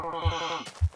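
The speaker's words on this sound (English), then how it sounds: "Sheep." A Minecraft sheep bleats twice in a row, each call short, nasal and wavering, with a second, louder bleat following close after the first.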